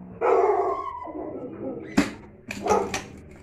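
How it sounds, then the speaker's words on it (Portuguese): Dogs bark in a few sharp bursts at mid distance, with a longer whining or mixed vocal sound before them and some background noise throughout. "Meus cachorros latindo"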